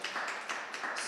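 Conference audience at a SmartFutures event applauding, a steady mid-level patter of many hands clapping with small surges in intensity, no voices.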